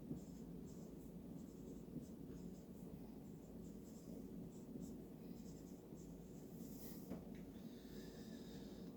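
A number is written on a board during a physics problem walkthrough, producing faint, steady scratchy strokes over a constant low room hum.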